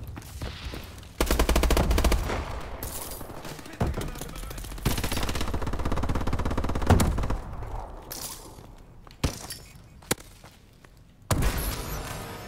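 Heavy automatic gunfire from Call of Duty: Advanced Warfare multiplayer, loud, dense bursts with thuds and gaps between volleys, a few isolated single shots near the end.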